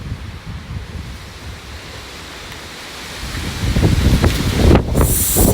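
Very strong wind roars steadily around a cottage, a dense rushing buffet that swells louder toward the end, with gusts battering the microphone and no voices heard.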